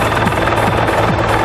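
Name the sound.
helicopter flying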